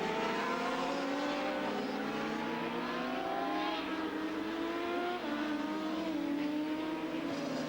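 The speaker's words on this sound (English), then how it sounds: "And Smith and McElney, both Suzuki mounted, one the 500 two-stroke, the other 1000cc four-stroke, closing the gap now on Ron Haslam" Suzuki superbikes at a 1983 race, a 500 two-stroke and a 1000cc four-stroke among them, scream around the track with steady high revving engines and shifting pitch, continuous and fairly distant.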